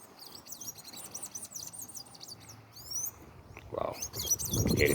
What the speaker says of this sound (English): Wow, hear the birds.